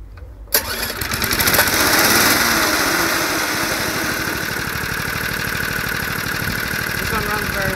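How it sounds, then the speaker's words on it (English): A 3 horsepower Tecumseh small engine starts cold with a sharp catch, then settles into a loud, steady, fast-pulsing run that continues close and unbroken throughout. "Now I'll move it to 3 horsepower tecumseh engine."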